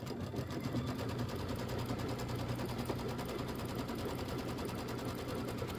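An embroidery machine stitches a placement line for a quilted nativity bench pillow, a rapid, steady mechanical chatter of needle strokes running continuously up close with no voices.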